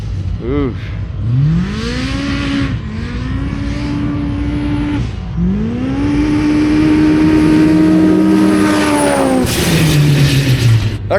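A fast Polaris Pro R UTV revs and accelerates loudly up close, its engine pitch rising and falling through repeated shifts, with a voice briefly heard over it.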